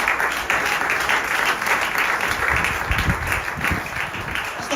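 Congregation applauding steadily inside a church during a French-language sermon, a dense, sustained wash of many hands clapping at even loudness for the whole stretch, with no voice over it.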